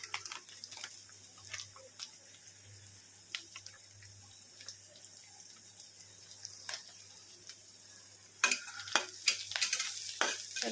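Onion fries with turmeric for kanda poha, a faint low sizzle under repeated scraping stirs of a spoon in the pan, growing louder and busier near the end.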